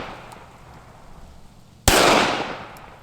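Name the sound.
gunshots from a Ruger LCP II pistol at the range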